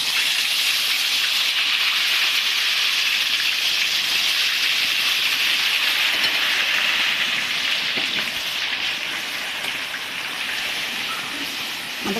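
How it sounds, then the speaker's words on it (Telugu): Ginger garlic paste sizzles steadily in hot oil for a large batch of mango pickle, a dense, even hiss that holds throughout and eases slightly toward the end, close and without talk. "కొంచెం మంట తగ్గించి ఇప్పుడు అల్లం వెల్లుల్లి పేస్ట్ వేసుకుందాం"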